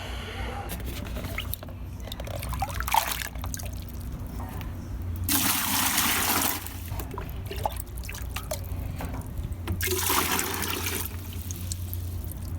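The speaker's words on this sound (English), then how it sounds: "Think that's enough to flush the toilet?" Rainwater poured from a bucket into a toilet to flush it during a post-hurricane power outage in Puerto Rico, heard as two rushing bursts of water with drips and trickling between them, fairly close.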